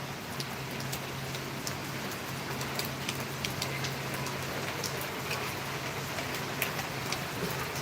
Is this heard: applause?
no